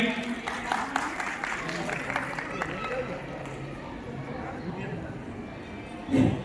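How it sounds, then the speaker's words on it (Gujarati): Audience applause welcoming Mohanbhai at a Kutch Prajapati community cultural event in Anjar, a steady patter of clapping that fades slowly over several seconds, with a brief louder thump near the end. "તાળીઓથી વધાવી લો મોહનભાઈ."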